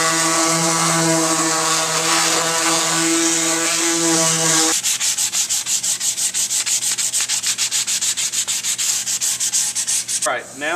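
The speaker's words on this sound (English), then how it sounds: "get the entire thing sanded really well, all the way to 220 grit sandpaper" Sandpaper rubbed over a solid wood longboard deck, first long smooth continuous strokes, then a fast regular back-and-forth scratching rhythm, loud and close, ending with a brief pause.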